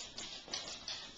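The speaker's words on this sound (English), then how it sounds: "That's my dog walking on the wooden floors." A dog's claws tap on wooden floors indoors in a few soft, quick clicks, faint and close, with no talk.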